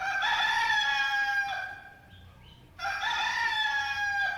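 A rooster crows twice nearby in the evening, loud and clear, with a short quiet gap between the calls.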